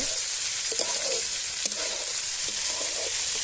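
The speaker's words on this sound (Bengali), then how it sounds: "এটা ভালো করে আমি ফ্রাই করব, আমি ভেজে নিব" Bitter gourd fries in a pan over a clay stove with a loud, continuous bright sizzle, broken by a few light scrapes and taps of a spatula; nobody speaks.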